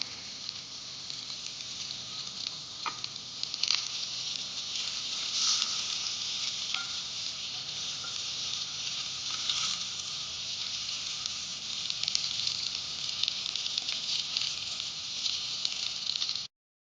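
Okra masala fry simmering on a low flame, a steady crackling sizzle that runs unbroken for about seventeen seconds, with scattered pops and light stirring and no talk.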